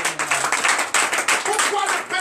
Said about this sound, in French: donnez de vives acclamations au Seigneur